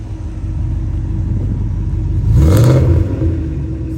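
BMW 540i E39 V8 fitted with a custom-made exhaust, heard from inside as the engine drones steadily, then swells into one loud rising rev around the middle before easing back to a rumbling cruise.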